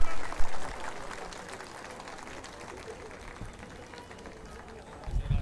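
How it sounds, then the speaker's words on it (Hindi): Crowd at an Apna Dal Kamerawadi party convention in Kaushambi clapping to welcome the national president, a dense steady patter of applause with a louder burst near the end. "जोरदार तालियों के साथ स्वागत नहीं करेंगे राष्ट्रीय अध्यक्ष जी का?"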